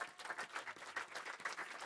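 Congregation clapping together during a church worship service, steady dense applause with rhythmic accents throughout, moderately loud and close.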